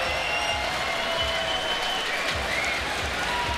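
Crowd at a street-league skateboarding contest in San Diego applauding and cheering steadily, a dense wash of clapping and voices held at an even level throughout, with no clear single voice standing out.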